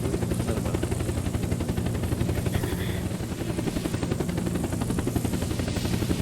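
A helicopter in the video game Unturned thumps steadily with fast rotor beats over a dense engine roar, loud and continuous throughout.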